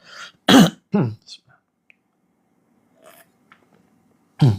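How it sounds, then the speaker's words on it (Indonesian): A few short, sharp coughs close by, separated by pauses, with a final cough after a quiet stretch. "Terus kemudian dibatuk-batukan"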